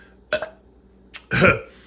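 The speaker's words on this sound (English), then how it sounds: "I burped, yes." A single burp, loud and close, with a short guttural onset followed by a fuller belch about a second later, in an otherwise quiet room.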